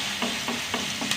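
Sliced onions, garlic and long green chillies sauté in hot oil, a constant close sizzle broken by four evenly spaced scraping stirs.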